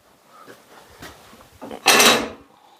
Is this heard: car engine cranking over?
no